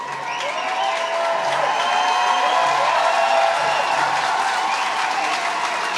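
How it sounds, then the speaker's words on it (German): An audience at a horse championship cheers and claps in a sustained, dense wash of applause and crowd noise that swells slightly in the middle. A voice rises above the crowd at moments. "Wir können hören, wie das Publikum sich fühlt, was das Publikum findet."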